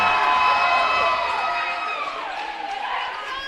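A crowd in a high school gymnasium cheers at a North Delta girls' basketball state tournament game, a loud sustained roar of voices with whistles and shouts echoing through the hall.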